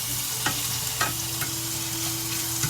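Steak frying in butter in a pan, a steady close sizzle with faint scrapes and stirring taps over the hiss, continuous with no voices.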